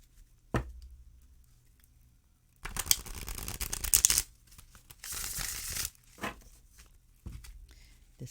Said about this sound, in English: let's give each one of them a shuffle here